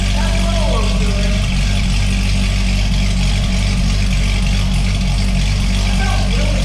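A C6 Corvette ZR1 with a modified exhaust idles loudly and steadily at close range, a deep continuous rumble with a slight chop, while voices are heard faintly over it.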